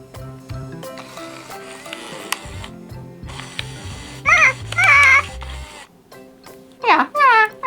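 A battery-powered toy bird switched on and moving, giving a whirring ratchety gear mechanism with clicking, followed by loud high chirping electronic bird calls in short bursts.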